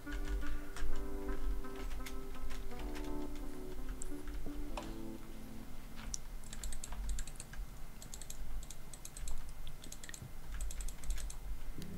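Rapid keyboard typing and mouse clicks during a Minecraft session, a dense, steady clatter of close taps running throughout with no talk.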